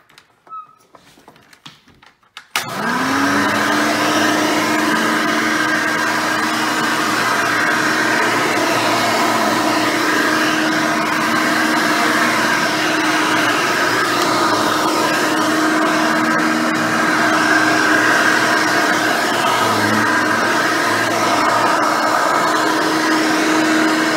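A Hoover Elite 600 vacuum cleaner starts up and runs on carpet with its brush roll agitating, giving a loud, steady, close motor roar that holds for over twenty seconds after a short quiet lead-in.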